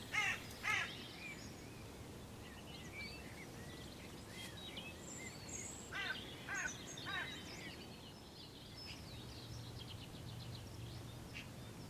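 Several crows caw intermittently around bait set out in a spring field, harsh calls near and far over a backdrop of other birdsong and faint ambient hum, with quieter gaps between bursts.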